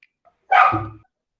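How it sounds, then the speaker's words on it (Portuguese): A single close, sharp dog bark rings out once, preceded by faint distant yips, with silence around it. "Tá uma cachorrada aqui participando"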